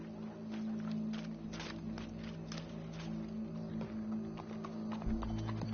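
Horse hooves clopping at a walk in Red Dead Redemption 2, a steady run of soft hoof falls over a constant low hum and background game ambience.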